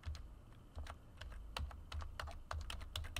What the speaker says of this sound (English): So you're going to type that address in.